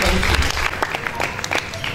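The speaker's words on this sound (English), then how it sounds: "Please, another round of applause for him." A round of applause from the audience at an academia, industry and government engagement forum, with dense clapping at close range for about two seconds, a background voice faintly present.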